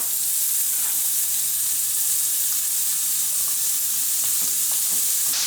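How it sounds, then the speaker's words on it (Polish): Chicken pieces sizzle and fry steadily in a hot pan over a gas flame, a constant close crackle with a few louder spits and pops near the end, no talking. "ręką rozrzucając delikatnie po całej patelni oczywiście smażymy kurczaka"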